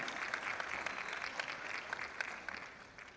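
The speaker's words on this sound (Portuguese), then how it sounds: "Salva de palmas aí." Audience applause at a talk or public event, a crisp sustained patter of many hands clapping at a moderate distance, fading slightly toward the end.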